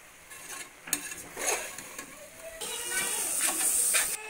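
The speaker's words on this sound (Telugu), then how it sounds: "ఇలా ఒకసారి గరిటెతో ఇలా కలుపుకోవాలి మొత్తాన్ని" A ladle stirs a beans and potato curry in a cooking pot, making soft scraping, rustling swirls with a light sizzle that swell and fade over a few seconds.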